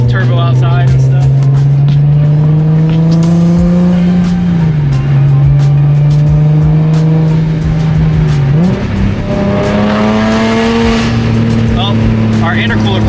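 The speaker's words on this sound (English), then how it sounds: "let me roll these windows down so you can kind of hear the turbo outside and stuff." Turbocharged car engine heard with the windows down while the intercooler piping has come off. A loud, close, steady drone rises in pitch twice as it revs and accelerates.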